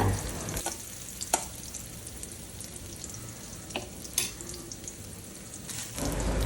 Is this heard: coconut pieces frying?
yes